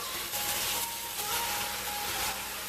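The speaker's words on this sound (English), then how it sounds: "I'm going to saute this here and give my onions an opportunity to cook a little bit" Onions sautéing in a pan as pork adobo is made, giving a soft, steady hiss and sizzle that stays faint and even with no talking.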